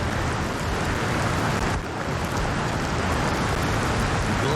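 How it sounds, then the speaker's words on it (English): Heavy rain pours down steadily over an outdoor football pitch during a youth match, forming a dense, continuous hiss that stays loud and even throughout with no clear voices. "The rain absolutely thumping down now."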